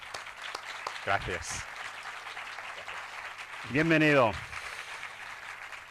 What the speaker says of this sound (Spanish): Recibimos con un aplauso a Javier